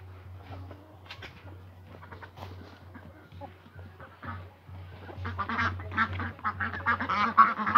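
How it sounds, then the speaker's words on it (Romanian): A broody hen sitting on eggs in a farmyard coop gives soft clucks and fowl calls over a steady low electrical hum, growing louder and busier toward the end. "Aici o găinușă pe ouă."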